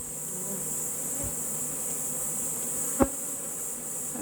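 Honeybees being coaxed along by a keeper to follow the queen's scent, a steady close insect buzz that fills the whole stretch, with one brief sharp click partway through and no talking.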